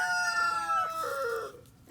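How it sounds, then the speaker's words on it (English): A Buckeye hen gives a short, loud, close call with a tonal, slightly falling pitch that trails off after under two seconds. "This is, I believe, one of our surprise extra chickens included with an order from Murray McMurray."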